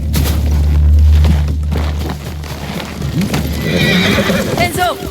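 Several horses neigh and whinny close by with clip-clopping hooves in a samurai battle scene from Ghost of Tsushima, under urgent voices calling out.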